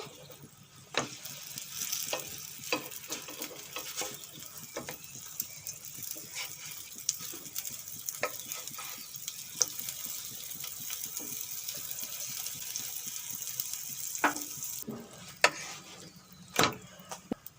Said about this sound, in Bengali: নাস্তাগুলো খুব সুন্দর করে ভেজে নিয়েছি